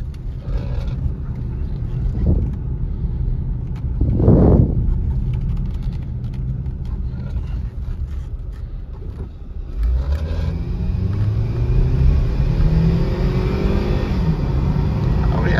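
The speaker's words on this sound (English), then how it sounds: "Well, 4-cylinder's got some pep." A 2014 Hyundai Tucson SE AWD with a four-cylinder engine and six-speed automatic accelerates while driving, its engine rising and falling through the gears under steady road and cabin noise, loud and close.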